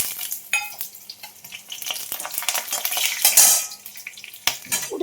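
Whole spices, green chillies, black pepper, cardamom, cloves and cinnamon, sizzle in hot oil while a utensil scrapes and stirs the pan for chicken tehari, with close clinks and steady frying hiss and no talking.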